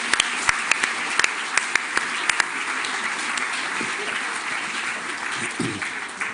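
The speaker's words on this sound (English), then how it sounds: "Please, a huge round of applause for them." Applause from an audience at a 2019 staff awards evening, starting with a few sharp individual claps, then swelling into steady, loud clapping that carries on throughout.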